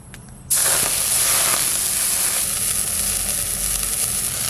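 Water splashes into hot oil in a wok and erupts into a loud, sustained sizzling hiss that starts abruptly and holds steady, close up, with no speech.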